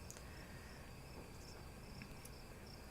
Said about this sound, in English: No silly kazoo this time. Just crickets.